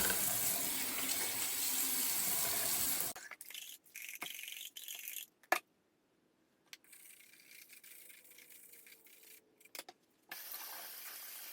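A tap runs water over the fan blades of a 1980s dehumidifier being rinsed, a loud steady splashing stream that cuts off and then resumes in bursts, with rattling and clunks of the parts in between.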